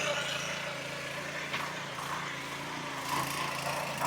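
A mini power weeder grinds through soft, wet mud in a field, its small engine droning steadily at close range throughout, with rustling and sloshing over the top and a person talking.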